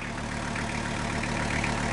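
The engine of a VW T4 van idles with a hole in the exhaust, making a steady, loud, close low rumble with a faint rhythmic pulse and no voices over it.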